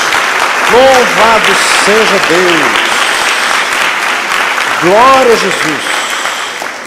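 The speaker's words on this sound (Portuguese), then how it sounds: "Dê uma salva de palmas a Jesus." Church congregation breaking into loud, sustained applause, with voices calling out praise over the steady clapping.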